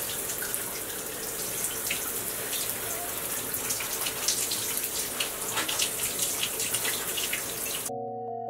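Water runs steadily from a tap in a bathroom while natural hair is rinsed during a wash day, a continuous close splashing flow lasting several seconds before it stops abruptly.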